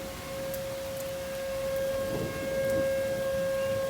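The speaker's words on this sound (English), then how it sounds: "I knew they were gonna sound the sirens." A civil defense siren sounds a tornado warning in Beloit, Wisconsin, holding a steady distant wail under soft background noise from a dark, stormy evening.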